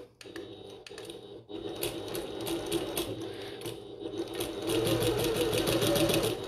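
A sewing machine runs a 3/8 inch seam on a bucket tote, starting with a few short hesitant bursts, then settling into a steady close whir that speeds up and grows louder toward the end.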